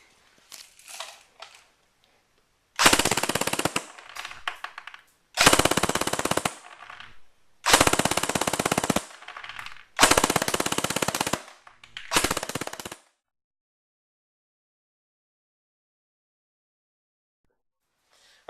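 An ICS M3 airsoft gun fires full auto in five loud, close bursts of one to two seconds each, separated by short pauses, a rapid mechanical buzzing rattle that ends in silence.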